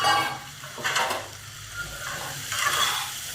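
Moong dal is stirred into sago khichdi in a pot, producing steady scraping and a soft sizzle in uneven pulses, close and moderately loud, with no talking.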